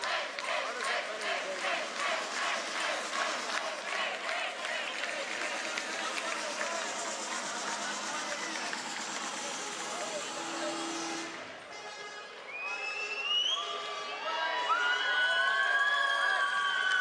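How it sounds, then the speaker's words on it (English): A crowd at an FTC European Premier robotics event cheers in a loud, sustained roar for about eleven seconds after a match ends. The roar then drops away, and scattered whistling and tonal sounds follow. "That's the end of this match, and you can hear them cheering."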